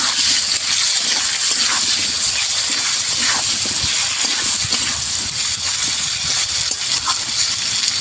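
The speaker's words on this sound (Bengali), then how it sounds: "অল্প একটু কাশ্মীরি লঙ্কা দিয়ে ভালো করে ভেজে নেব" Tengra fish frying in oil with turmeric and Kashmiri chili, giving a steady, close, loud hiss and sizzle that runs unbroken through the whole stretch, with faint crackles and no talking.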